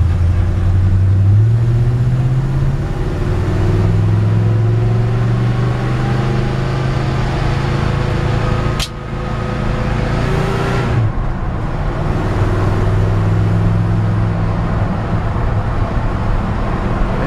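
A 1963 Ford F100 pickup with a 302 V8 and automatic transmission drives along, its engine droning steadily with road and cabin noise and occasional shifts in pitch.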